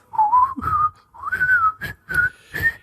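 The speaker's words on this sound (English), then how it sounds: "And then that whistling song comes on." A loud, close whistled tune plays alone in short melodic phrases separated by brief pauses, with the pitch rising and falling.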